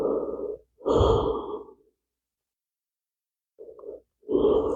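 Slow breaths while resting face down on the forearms in a yoga practice, two long exhales and a softer inhale separated by a pause of silence, close and fairly loud with no talking.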